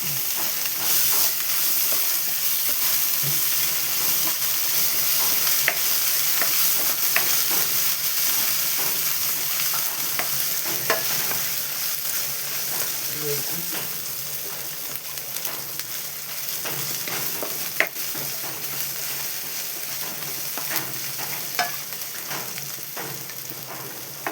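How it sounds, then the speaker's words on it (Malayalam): Green chili and ginger garlic paste stirred in a pan for a mushroom masala, with steady, loud frying sizzle and hiss throughout and occasional scrapes of a spoon against the pan. "പച്ചമുളക് ഇട്ടു. ഇഞ്ചി വെളുത്തുള്ളി പേസ്റ്റ് ഇട്ട് കൊടുത്തു. എല്ലാം കൂടി ഒന്ന് ഇളക്കി കൊടുക്കാം."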